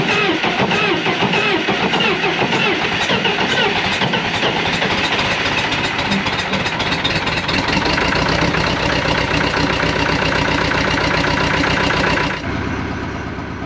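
A diesel engine with glow plugs cranks and fires up on a cold start, its dense, steady rumble and clatter running loud and close before cutting off abruptly near the end.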